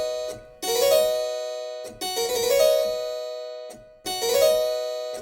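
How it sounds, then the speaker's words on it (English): Harpsichord phrases, three short ornamented figures separated by brief pauses, each a quick grace note falling into a sustained chord. "The chute for two notes sounds like this."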